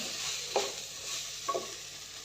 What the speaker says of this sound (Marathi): पाव चमचा गरम मसाला सर्व व्यवस्थित मिक्स करून घेते